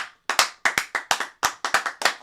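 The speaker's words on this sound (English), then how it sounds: "slow clap for the impending doom." A slow, uneven round of hand claps, about a dozen sharp smacks spaced unevenly across a couple of seconds, close and fairly loud with no talking, given by a sports pick'em show host.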